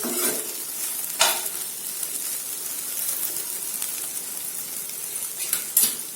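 A spatula scrapes and stirs an okra (bhindi) stir-fry in a pan over a soft sizzle. A few sharper clinks of utensil against metal are heard, and no one speaks.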